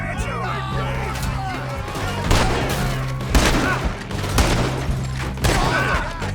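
Gunfire shootout in Red Dead Redemption 2, with repeated loud shots and thuds going off in bursts over a steady game soundtrack, while people talk over the action.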